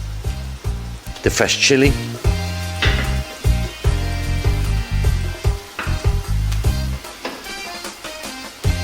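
Garlic, ginger and fresh chili sizzle in a pan for a Sri Lankan-style fish curry with curry leaves, a steady frying hiss with stirring clatter running beneath a person talking close by.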